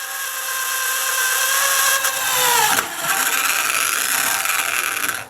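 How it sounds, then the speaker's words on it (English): A power drill with a 5/32 bit bores a pilot hole in a racing mower part, a loud whining drone that shifts pitch as the bit bites, then briefly slows and resumes alone. "so to drill these holes we're going to use a 5/32 drill bit"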